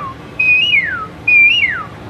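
A person whistles two bright, rising-then-falling calls imitating an Asian koel, each about half a second long, clear and close.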